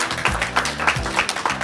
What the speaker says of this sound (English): if you guys want to give him a round of applause as well